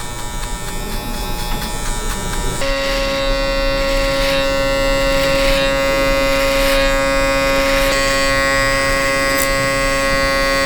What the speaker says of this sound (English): I'm going with my clipper open